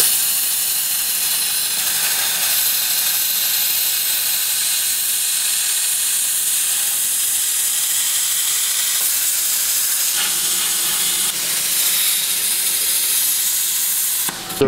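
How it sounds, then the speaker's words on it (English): Plasma cutter slicing through a brake caliper bracket during a Genesis Coupe Brembo conversion, a loud continuous hiss with some crackle that runs nearly unbroken, shifting slightly near the end. "We're going to set up the plasma cutter and then show you how we plasma cut it."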